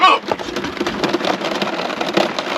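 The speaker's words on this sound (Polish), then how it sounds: "Leje strasznie aktualnie. Jest burza na Ewi." Heavy rain pouring during a thunderstorm on the Greek island of Evia, a dense steady hiss of drops drumming on a surface, close and continuous, with a faint voice briefly under it.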